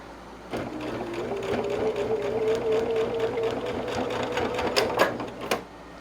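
Sewing machine stitching a quilted table runner, a steady whirring run of stitches with a rising pitch, then a few sharp clacks near the end as the bobbin runs out.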